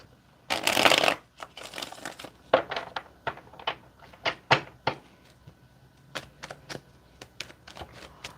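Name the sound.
shuffling a deck of cards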